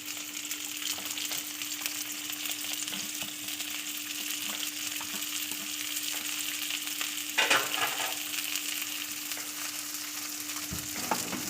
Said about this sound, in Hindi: इसे हल्का सा फ्राई करेंगे